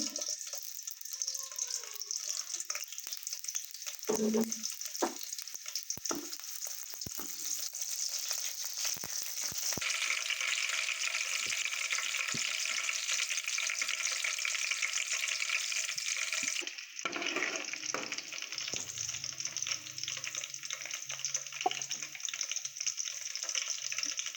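A tempering for mustard greens sizzling and crackling in hot oil, a constant loud hiss with occasional stirring clatter and bursts of spatter.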